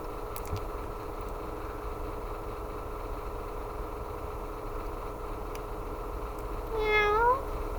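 A person's voice imitates a cat meowing, a single short rising meow near the end over a steady low engine-like hum.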